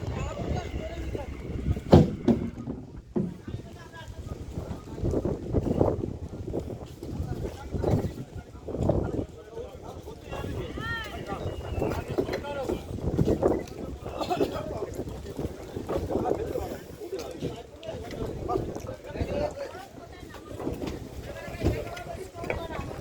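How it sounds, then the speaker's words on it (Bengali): A launch is brought alongside a jetty where a fish-laden trawler has arrived, with low engine rumble, wind buffeting and water noise under steady nearby talk. "জেটিতে ভেড়ানো হচ্ছে লঞ্চটিকে, মাছ সমেত ট্রলার এসে গেছে।"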